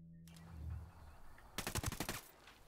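Video game gunfire aimed at a target: a rapid burst of several sharp, loud shots in quick succession, following a low rumbling engine-like hum, with no talking.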